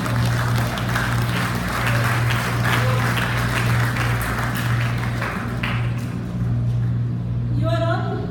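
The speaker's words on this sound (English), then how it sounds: "give yourself a big hand" A large graduation audience at a university ceremony breaks into sustained applause, a thick, even roar of clapping with a steady hum beneath, thinning out and fading near the end.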